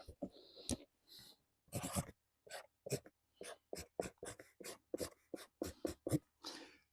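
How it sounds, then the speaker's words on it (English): Pen writing a name on a cardboard delivery box, a series of short, close scratchy strokes with brief pauses between them. "to write your name on the box which it will be delivered in"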